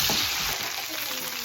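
Chopped garlic cloves sauté in hot oil in a pan for tadka, a close, steady, hissing sizzle throughout the short stretch, with no talking.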